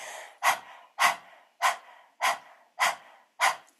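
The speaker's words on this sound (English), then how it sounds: "We will aim for breathing for about 30 seconds in breath of fire." Seven rapid, forceful panting breaths in yoga breath-of-fire style, sharp and evenly spaced about half a second apart, close to the listener with nothing else heard.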